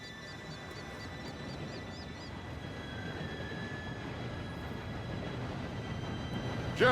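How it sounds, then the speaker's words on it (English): A train approaching in the Western video game Red Dead Redemption 2, a steady low rumble of wheels on rails with a high whine and faint squeal, building slowly with no talk. "Train should be here any minute now."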